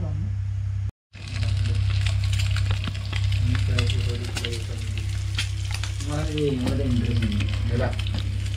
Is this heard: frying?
yes